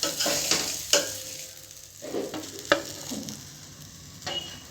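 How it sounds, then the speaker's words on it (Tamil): Vanjaram fish fry pieces frying in hot oil, with a soft bubbling sizzle and a few sharp clinks and scrapes of a utensil against the pan, close by and without talk. "இதே மாதிரி மீதி உள்ள ஃபிஷ் எல்லாம் ஃப்ரை பண்ணி எடுத்துகிட்டு வந்துக்கிறேன்"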